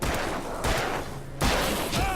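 Gunfire in a video game, a few sharp loud shot bursts in quick succession, each cutting off abruptly, with faint talk underneath.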